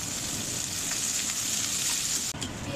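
Onions sizzle in a pan with cloves, cardamom, cinnamon and two bay leaves while a Bengali-style country chicken curry is cooked, giving a steady, close, loud frying hiss that continues throughout with no talking.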